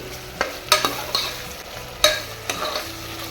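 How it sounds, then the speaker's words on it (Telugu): Onion, tomato and ginger-garlic fry over a medium flame in a pan for mutton paya gravy, with a soft constant sizzle broken by several sharp scraping strokes of a spoon stirring, close and clear. "మీడియం ఫ్లేమ్లో పెట్టుకొని ఫ్రై చేసుకోండి"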